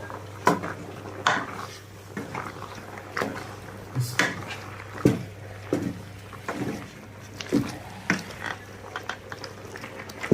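Rice and kappa (tapioca) biryani with meat being stirred and mixed in a cooking pot, Kerala style: irregular scraping strokes and clanks of a utensil against the pot, close and moderately loud, with no talking.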